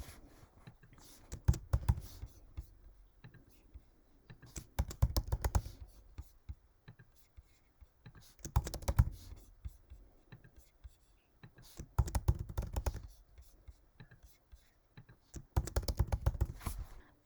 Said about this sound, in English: I am just going to type them all